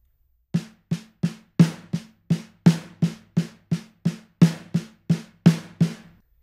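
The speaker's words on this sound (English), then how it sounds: "you can just play singles, starting with the right hand alternating" Snare drum played as alternating single strokes, right hand leading, with accented hits standing out; sixteen crisp, evenly spaced strikes ring out alone at a steady moderate tempo.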